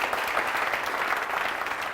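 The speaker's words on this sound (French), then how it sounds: "Merci de les applaudir très fort" Audience applause for Les Sirènes du Faso, an all-women orchestra, at a live morning broadcast event: steady, dense clapping from a sizeable crowd, fairly even in loudness throughout and without voices.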